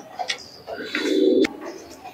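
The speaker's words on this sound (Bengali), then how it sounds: "জাকির মল্লিকের ঘরের কবুতর দেখুন, গলায় লাল" Tournament-flying Andhra pigeons with red necks coo close by in a home loft, several short throaty burbles with one longer, louder coo in the middle.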